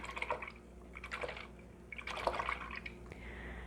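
Water sloshing and dripping as an acrylic paintbrush is rinsed in a cup, a quiet, close liquid swirling with small splashes.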